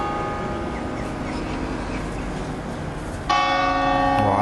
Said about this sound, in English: just in time to hear the clock strike